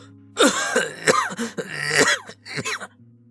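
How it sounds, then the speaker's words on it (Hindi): A man coughs loudly several times in rough, hacking bursts, with some throat clearing mixed in, close and forceful. "इतना बोलते ही वो जोर जोर से खांसने लगे।"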